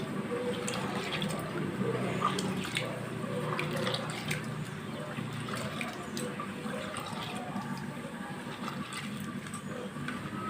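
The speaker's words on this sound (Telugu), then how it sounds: "ఇప్పుడు ఇందులో మరి కొన్ని నీళ్ళు పోసుకుని మనం పులుసు తీసుకుందాం" Water pours steadily into a bowl of raw tamarind pulp, a soft continuous splashing and trickling with no talking.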